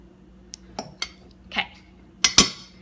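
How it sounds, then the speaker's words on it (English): Butter knife clicking against a plate or board while slicing butter for a cherry vanilla cupcake recipe, a few soft taps building to two sharper metallic clinks near the end. "I go for a butter knife and I just kind of slice them just like so"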